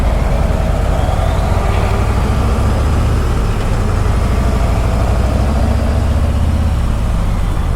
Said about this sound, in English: Diesel over here is making some noise.